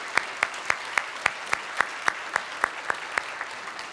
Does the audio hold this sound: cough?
no